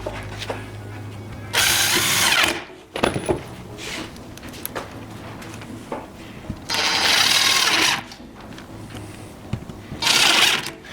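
Cordless drill driving screws into wooden raised garden bed boards in three loud, high-pitched bursts of a second or two each, separated by quieter clicks and handling noise.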